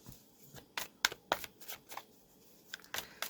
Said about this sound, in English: Just throw down a quick shuffles here